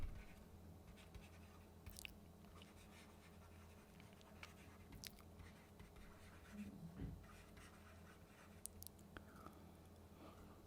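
Chalk or marker strokes on a board during a physics lecture on forced oscillations, soft scratchy scribbles in short bursts over a steady room hum, with no talking.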